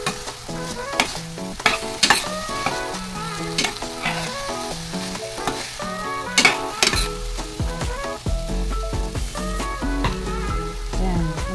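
Mixed vegetables, including squash, are sautéed with dried shrimp in a pan, with a continuous sizzle overlaid by repeated stirring scrapes and clinks of the utensil against the pan, close and clear.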